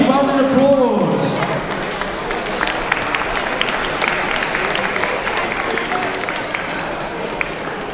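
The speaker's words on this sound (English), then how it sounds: "Ladies and gentlemen, big round of applause." An audience gives a round of applause as people come up to the stage, sustained crowd clapping that starts after a brief voice and carries on evenly throughout.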